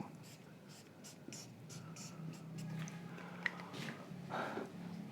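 Chalk or marker writing on a board during a mechanics lecture, soft scratchy strokes in short bursts with faint background noise.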